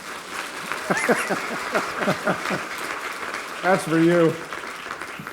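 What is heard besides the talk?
conference audience applauding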